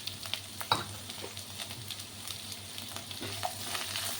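Onions frying in hot oil for a potato gravy, a soft continuous sizzle close by with a few faint scrapes and taps from stirring, no voices present.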